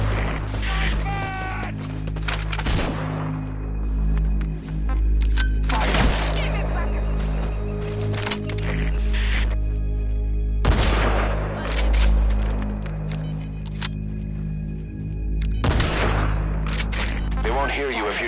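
Gunfire in Metal Gear Solid 5: The Phantom Pain, a handful of sharp single shots spaced several seconds apart over a steady low game ambience, with a voice talking in between.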